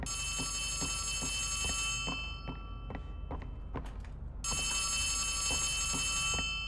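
Repeated ringing of a telephone in the horror game Poppy Playtime Chapter 3, a regular series of bell strikes over a droning tonal background, with no speech.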